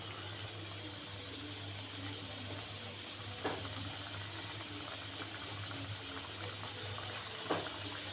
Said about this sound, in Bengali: চুলায় তেল দিয়ে দিয়েছি তেলটাও গরম হয়ে গেছে এখন পিঠাগুলো ভেজে নেব